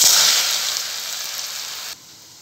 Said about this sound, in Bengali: ছাঁকা তেলে ভেজে নেব।